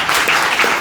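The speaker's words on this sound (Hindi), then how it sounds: "थोड़ा जोरदार ताली बजाइए प्लीज" A crowd at a Modicare training session applauds loudly and continuously, many hands clapping in a full, unbroken burst.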